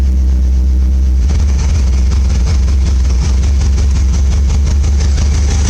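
A 1982 Triumph TR7 V8 with a 4.6 litre engine idles on choke, a loud, steady low rumble with a fast even pulse that picks up slightly after the first second and holds, close to the car with no talking.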